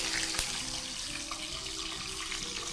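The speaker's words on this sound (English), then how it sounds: "So off with our fish into the oil." Tilapia fish fries in hot oil in a pan, giving a steady, dense hiss and crackle with a brief sharp pop early on.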